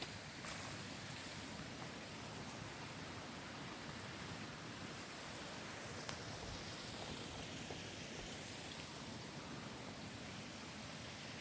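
Brook flowing through the woods of Northern Maine on a hot day, a faint, continuous broadband rush of running water with no voices.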